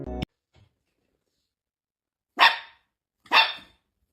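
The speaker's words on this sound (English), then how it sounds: "he heard a weak, intermittent barking" A dog in fog gives weak, intermittent barking: a short sound at the start, then two separate yelps more than a second apart, each fading, with long silence between them.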